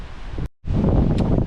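Strong wind before a storm buffets the microphone in open country with a loud, rough rumble. It drops out for a split second, then returns just as heavy.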